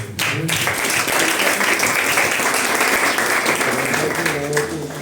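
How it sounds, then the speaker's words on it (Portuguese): Applause from a church congregation at a service closing a campaign, a dense, steady wash of clapping held at an even level for about five seconds. "Muito obrigado pelas palmas."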